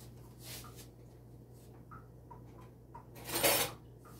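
A teaspoon stirs around in a bowl while homemade Oreo cookies are made, giving soft, scattered clinks and scrapes with one louder rattling burst near the end, fairly quiet overall.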